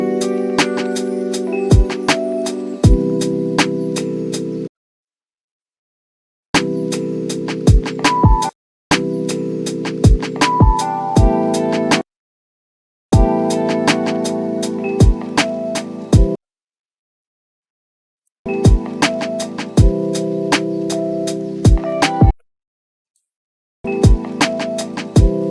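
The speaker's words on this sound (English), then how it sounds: "Okay, these are the ghost notes." Lo-fi drum loop built in FL Studio with soft snare ghost notes between the main hits, played in several repeated bars over a warm sustained tone, cutting out to silence between passes, with no talking.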